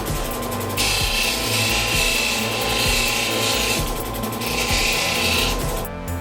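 A sea shell is polished for jewelry, heard as two loud, sustained grinding-buzzing passes of about three seconds and one second, with a short quieter pause between them and no talking.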